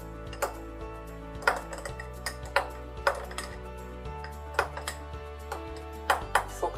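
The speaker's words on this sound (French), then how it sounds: "Je mets une petite quantité dans le bocal" Sweet peppers being dropped into a glass jar, producing a series of light, clear clinks and taps against the glass at irregular intervals over a steady low background hum.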